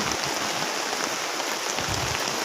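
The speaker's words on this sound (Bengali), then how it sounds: "প্রচণ্ড বৃষ্টি নামছে দেখতে পাচ্ছেন" Heavy rain pouring steadily over vegetable fields of cauliflower, chili and eggplant, a dense, loud, unbroken hiss of drops on surfaces with no voices.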